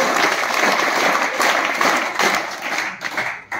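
An audience of schoolchildren and guests claps in welcome at a school event on superstition eradication, a dense, loud burst of applause that tapers off near the end.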